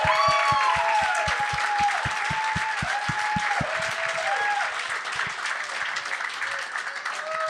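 A comedy show audience applauds a guest named Nicolas Jacques, loud sustained clapping and cheering filling the room, with a few whoops over a steady crowd wash.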